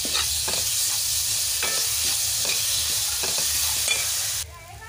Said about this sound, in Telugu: అల్లం వెల్లుల్లి పేస్ట్ను కూడా కొంచెం ఆయిల్లో అయితే మగ్గించుకోవాలి.